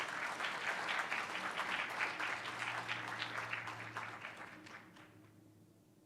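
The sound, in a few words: audience applause for honorees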